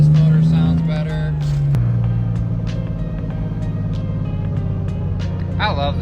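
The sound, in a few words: BMW E30 with swapped M50 engine driving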